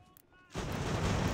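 Cannon artillery in Ultimate General: American Revolution, a sudden loud blast that swells into a sustained rolling roar of massed fire after a quiet moment.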